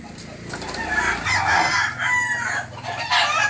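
Four chickens taken out of their coop cluck and crow loudly and close by, with one drawn-out rooster crow rising over continuous clucking and no talking.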